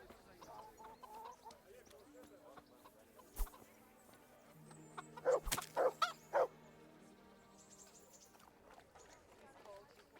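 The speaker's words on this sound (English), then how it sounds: "Can I run around punching chickens with impunity?" Chickens cluck in a short cluster of sharp, squawking calls in the medieval game Kingdom Come Deliverance, faint against quiet game ambience, with a louder thud just before.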